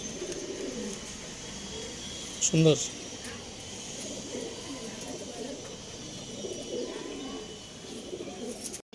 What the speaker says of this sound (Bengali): এই ফেস অফ বিউটি দেখুন পায়রাটা,